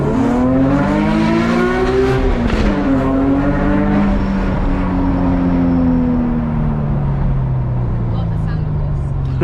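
A built VQ-engined Infiniti G37S with a Motordyne exhaust and Z1 test pipes revs hard from inside the cabin, the loud engine tone climbing steadily before easing off, with people talking over it.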